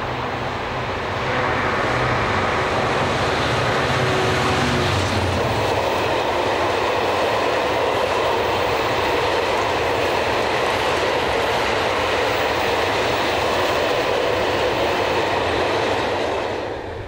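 Class 66 diesel locomotive 66235 hauling a China Clay slurry freight train from Burngellow to Irvine near Bristol, a steady loud engine roar with rolling wheel noise sustained throughout, no talk.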